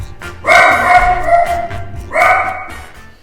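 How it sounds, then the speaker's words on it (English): A dog at home gives two loud, drawn-out barks or howling yips close by, the second following after a short pause, with low room noise beneath and no speech. "He's just barking."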